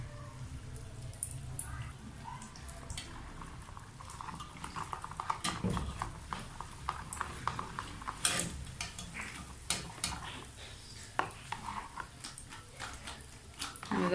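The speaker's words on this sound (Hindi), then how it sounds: "तो ये हम इस दही में डाल देंगे और इसे अच्छे से मिक्स कर लेंगे चम्मच से।" A spoon stirs yogurt mixed with salt and roasted crushed cumin, giving soft scrapes and small clicks against the bowl in an irregular rhythm, close up and fairly quiet.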